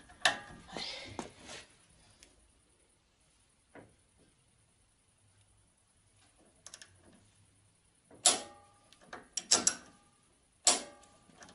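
A torque wrench set to 9 decanewtons tightens front suspension parts: a few quick metallic ratchet clicks near the start and sharper bursts of clicking near the end, separated by a long quiet stretch.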